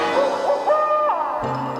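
A great snowy owl in a 1979 Berenstain Bears Christmas cartoon gives a wavering, howl-like hoot over a music bed, loud and sustained for a couple of seconds.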